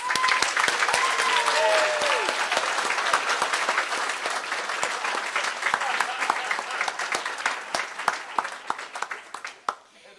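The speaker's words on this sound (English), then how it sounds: "another round of applause" A large crowd at a high school awards and hall of fame ceremony claps in sustained applause that gradually thins out, with scattered individual claps and a few cheers near the end.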